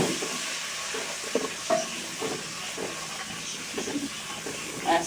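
Tempering (tadka) for boiled moong dal made with ginger, garlic, onion and green chilli, a steady hiss of sizzling oil with scattered crackles and pops, close up and without talk.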